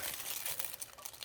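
Plastic wrap crinkles softly and continuously, a faint irregular crackle of small pops close by, with no talking.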